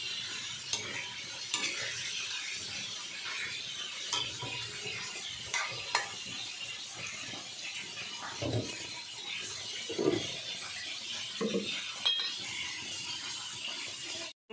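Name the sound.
stirring and sizzling vegetables being cooked in a pan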